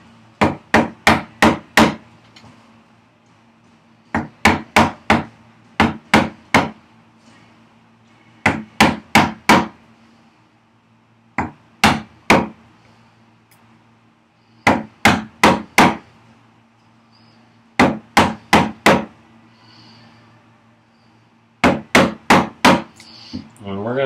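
Mallet blows drive a chisel into wood while chopping to a knife line on a workbench vise chop, landing in tight bursts of three to five sharp knocks separated by short pauses, close and loud.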